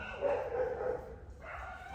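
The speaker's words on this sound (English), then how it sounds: "I'm not sure whether you can hear the dogs." Dogs barking and whining nearby, a few short yips and whimpers rising over steady background noise while a person talks.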